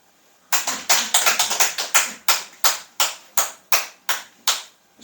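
A church congregation claps during a Sunday afternoon sermon, about a dozen sharp, distinct claps in a quick, uneven rhythm, close and clear with no talking.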